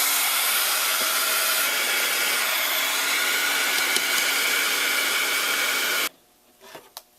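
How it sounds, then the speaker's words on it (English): An embossing heat tool blows loudly and steadily while heat-setting embossing powder on a card, then cuts off abruptly near the end, leaving faint handling noises. "Heat set that with your heat set tool."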